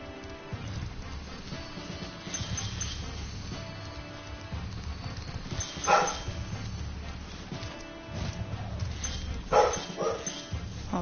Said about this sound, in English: I apologize, my dogs got spooked.